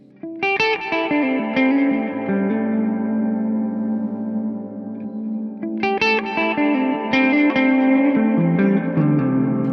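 Electric guitar through a Tonex 1.8 spring reverb with pre-delay: strummed chords and single notes ring clearly, then a dense, drawn-out reverb wash swells and engulfs them, loud and steady with no talking.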